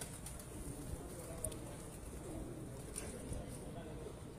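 Soft pigeon cooing on a rooftop loft among teddy pigeons, faint and low under steady background noise, with someone talking nearby.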